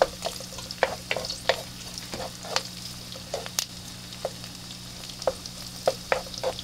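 Garlic frying in oil in a pan, a close sizzle punctuated by sharp crackles and pops at irregular intervals along with a low steady hum, without speech.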